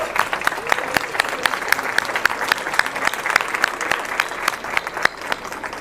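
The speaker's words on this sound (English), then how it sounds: "Let's give them a round of applause." A community audience at an El Paso awards celebration applauds the year's award recipient, a steady roomful of clapping with sharp individual claps popping through, sustained for several seconds with no talk over it.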